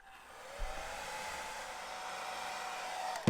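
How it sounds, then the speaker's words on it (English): A hair dryer blows in a steady, continuous whoosh from start to finish, loud and close, with a brief click at the start and end. "I actually have a hairdryer"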